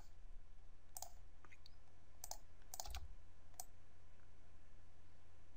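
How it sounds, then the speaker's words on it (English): A few faint, sparse keyboard key clicks, irregularly spaced, over a quiet low hum. "hit enter on the keyboard"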